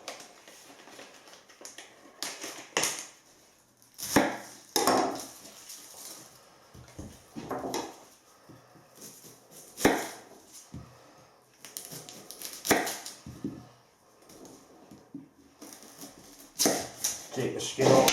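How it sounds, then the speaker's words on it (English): An onion is chopped on a board in a home kitchen, giving irregular, close knife taps and cuts, some in quick bursts, while a person talks intermittently. "I'll do the onion first."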